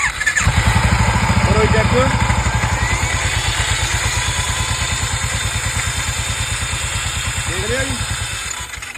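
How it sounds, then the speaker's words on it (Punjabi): A 2016 Royal Enfield Bullet Classic 350 with a noisy engine fault starts up and settles into a loud, close thumping idle with a fast, regular beat, while people talk briefly over it. "ਜਦੋਂ ਸਟਾਰਟ ਹੁੰਦਾ ਨਾ ਇੰਜਨ ਦਾ ਕਾਫੀ ਆਵਾਜ਼ ਕਰ ਰਿਹਾ"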